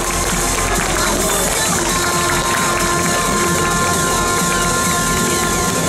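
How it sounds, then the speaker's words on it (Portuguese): Audience at a lolita fashion contest applauding and cheering for a contestant, a dense, loud, sustained wash of clapping and crowd noise with voices mixed in throughout. "Jessie, palmas pra ela."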